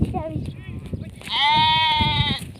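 A goat in a village lets out a loud, drawn-out bleat that rises clearly over a background of people talking nearby.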